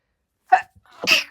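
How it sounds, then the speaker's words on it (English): A single close, sharp sneeze with a quick breathy intake before the main burst, alone in silence. "I'm going to sneeze too, by the way."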